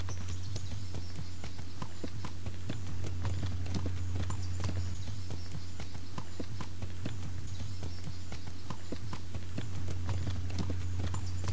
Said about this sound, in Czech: jinak by ten kůň běhal ještě rychleji